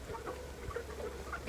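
Chickens in a farmyard cluck faintly and intermittently in several short calls, mixed into a soft background with no talking.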